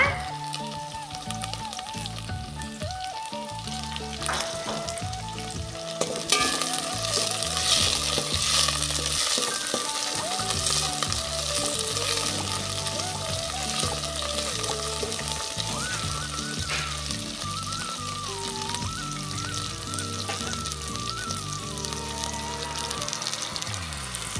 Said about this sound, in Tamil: இப்போ கருவேப்பிலை ஆட் பண்ணிக்கோங்க